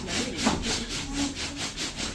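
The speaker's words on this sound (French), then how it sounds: "Tronçonneuse." Wood being cut with a saw, a steady rough rasping with a regular back-and-forth rhythm of about four strokes per second, close and loud, with no voices.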